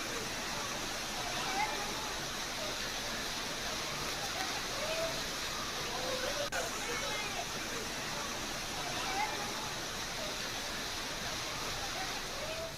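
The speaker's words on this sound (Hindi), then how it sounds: "ये देखिए जैसे किसी पहाड़ से झरना बह रहा हो, लेकिन ये घरों के आगे से निकलता हुआ पानी है।" Rainwater after heavy rainfall in Jodhpur, Rajasthan, pours like a waterfall in front of houses, making a steady, dense rushing roar that holds even throughout.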